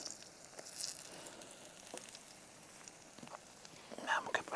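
A pancake frying in fat in a pan on a gas burner outdoors by a marsh, a faint steady sizzle with occasional crackles and small pops, under low quiet background noise.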